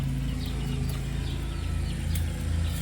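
Flock of about 22 chickens and four guinea fowl penned together in a coop, a steady layered murmur of low clucks with occasional sharper calls, close and continuous, with a constant hum underneath.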